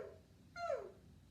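A singer vocally imitates a small, sweet puppy whimper as a vocal warm-up, one short, soft, high, falling whine heard close over a quiet low hum.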